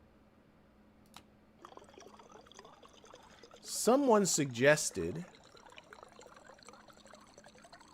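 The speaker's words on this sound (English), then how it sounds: "I'm just refilling up that water bottle" Water poured to refill a water bottle in the game Stationeers, a short burst of filling lasting about a second, heard between quiet stretches where someone speaks.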